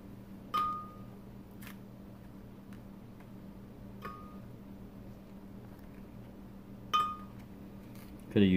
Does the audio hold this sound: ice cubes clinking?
yes